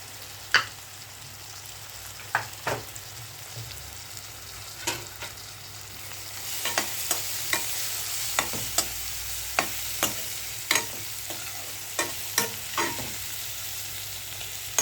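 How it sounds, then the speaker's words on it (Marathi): Onion frying in a pan for upma, a constant close sizzle broken by regular clicks and scrapes of a spoon stirring against the pan, growing busier in the second half with no voices. "कांदा भाजत आलेला आहे।"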